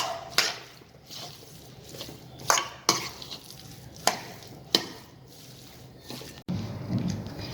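Sandwich filling of potato, peas and fresh coriander being mixed in a bowl, with a spoon knocking and scraping in sharp, spaced taps, close by, followed by a brief rustling shuffle.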